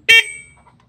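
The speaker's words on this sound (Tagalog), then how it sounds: "ito yung busina niya" A single short, loud electronic beep from the horn of a Hatasu Hero 1 electric bike, close by, sharp at onset and fading quickly into quiet.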